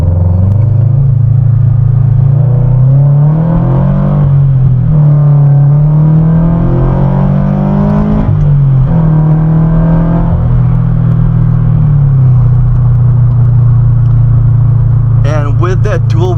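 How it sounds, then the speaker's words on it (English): A modified Subaru BRZ with a dual resonated front pipe drones low and steady, rising in pitch as it accelerates with a deep throaty rumble, loud and close throughout. "We'll get a quick acceleration right now."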